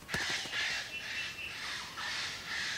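An eclectus parrot screams at other birds from its nest hollow in ancient forest, harsh raucous squawks repeating in several bursts over about three seconds, fairly close and loud against quiet background.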